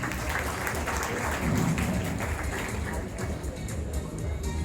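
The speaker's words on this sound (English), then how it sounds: "Can we have a huge round of applause for our last team?" Steady applause from a crowd at a school Teachers' Day event, with speech and general hubbub mixed in throughout.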